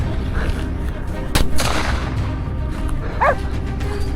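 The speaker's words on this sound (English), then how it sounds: "I moved in and, without hesitation, fired a decisive shot." A single sharp gunshot cracks out during a wild boar hunt outdoors, with hunting dogs barking and yelping nearby and a brief voice in the background.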